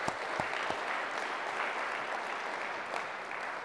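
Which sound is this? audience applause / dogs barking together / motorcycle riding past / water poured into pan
audience applause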